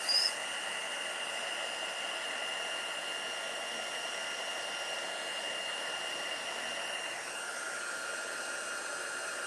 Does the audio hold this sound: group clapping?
no